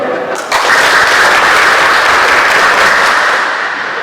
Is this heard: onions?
no